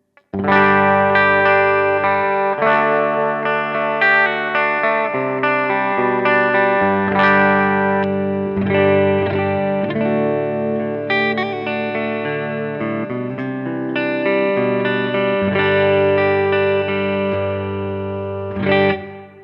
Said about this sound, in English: The amp's clean sound sounds like this.